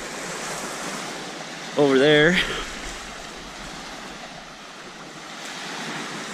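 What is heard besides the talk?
ocean waves on the shore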